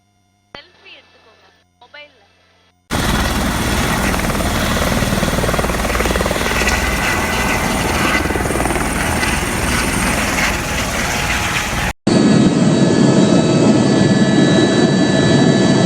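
Helicopter in flight on an ocean coast tour, a loud steady rotor and turbine roar filling most of the clip after a few faint sounds at the start, briefly cutting then resuming even louder.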